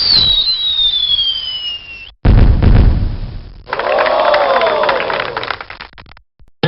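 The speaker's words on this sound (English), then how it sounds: "You're making beautiful fireworks!" Whistling rising launches and crackling bursts of fireworks in the game Mighty Math Number Heroes, loud and close, with a high tone sweeping through the first shot and a sparkling fizz after.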